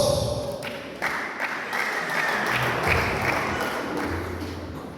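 Graduation ceremony applause for church pastors receiving honorary degrees, a steady wash of many hands clapping at moderate distance, continuous through the moment with no speech over it.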